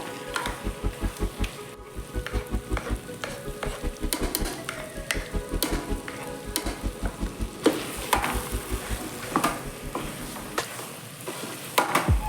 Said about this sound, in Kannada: ಒಂದೆರಡು ನಿಮಿಷ ಈ ರೀತಿ ಫ್ರೈ ಮಾಡಿಕೊಂಡ್ರೆ ಸಾಕು